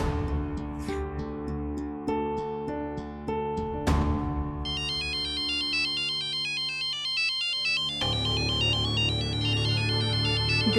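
A phone ringtone plays a repeating electronic melody, loud and close, with a shift to a brighter, busier tone partway through; no voices.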